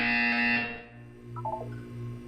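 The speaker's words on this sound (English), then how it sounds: "You will hear a buzzer." A steady electronic tone plays and fades, then a short synthetic buzzing beep from the video game Portal 2 sounds in quick repeated pulses over a low hum.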